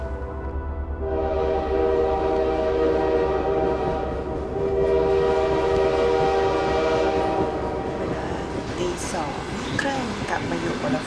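A passenger train in motion, heard from aboard during a round-the-world trip: a steady loud rumble of the rolling carriage with a sustained horn-like tonal hum running throughout, growing busier near the end, with a voice talking over it.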